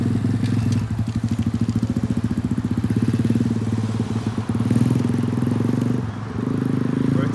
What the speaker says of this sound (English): First time on a dirt bike.